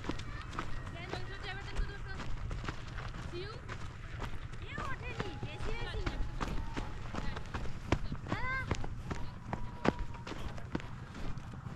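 A child's quick running footsteps patter along a mountain trail during a trek at about 3400 metres, steady and close, mixed with adult voices talking throughout.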